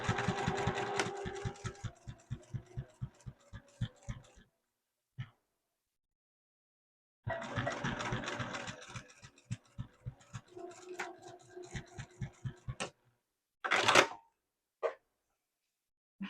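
A sewing machine runs in rapid bursts as it stitches across the flat box corners of a fabric triple-zipper pouch at a 3/8-inch seam allowance. Its steady mechanical chatter stops and restarts, then ends with a few handling clicks.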